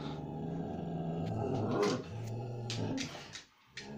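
A dog growls low and continuously, with rough snarling bursts and a brief whimper-like rise, facing off against a cat. It is close and fairly loud, tapering off near the end.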